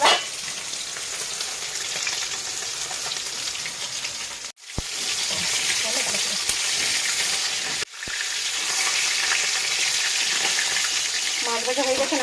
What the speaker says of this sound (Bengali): মাছ ভাজা হয়ে গেছে, নামিয়ে নিচ্ছি